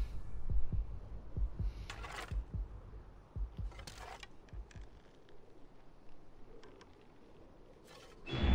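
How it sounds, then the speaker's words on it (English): A slow, deep thumping heartbeat from a character in Assassin's Creed Origins pulses steadily at first, then fades under ambient game sound with occasional brief noises. "Why is my character's heart beating like that?"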